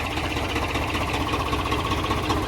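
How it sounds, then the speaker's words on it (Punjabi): A tractor engine idles steadily nearby with a low, throbbing chug that continues without pause. "ਟਰੈਕਟਰ ਪਾਰਕਿੰਗ ਤੋਂ ਕੱਢ ਲੈ ਬਈ"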